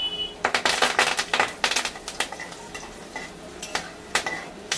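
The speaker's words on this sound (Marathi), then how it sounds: "कढीपत्ता थोडासा चांगला तेलामध्ये फ्राय होऊ देऊया" Curry leaves frying in hot oil alongside reddened peanuts, a prep step for spicy potato poha: a burst of crackling, sputtering pops and stirring scrapes, loudest at first, then easing into scattered ticks, with no talking.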